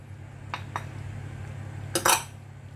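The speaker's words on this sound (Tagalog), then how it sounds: "Haluin natin para pumantay." A spoon clinks against a pot of chicken afritada while it is being stirred, with two light taps followed by a louder scraping clatter near the end, all against a steady low hum.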